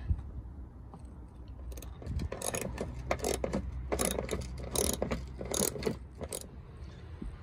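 A ratchet undoing 10 mm bolts on the underbody panel of a Land Rover Discovery Sport 2.0T during an oil change, heard as close bursts of rapid metallic clicking in several runs with short pauses between them.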